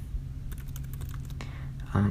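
Rapid, light clicks of typing on a computer keyboard patter steadily over a low background hum, ending with a brief louder thump.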